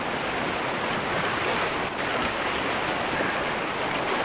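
River water rushing at a crossing near the hot and cold waterfalls of Jaro, Leyte, a dense, continuous hiss and roar close to the microphone with no talking.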